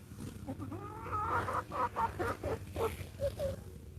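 Chickens clucking nearby on a cool morning, a run of short rising and falling clucks and squawks repeating irregularly over several seconds at moderate level, with no talk over them.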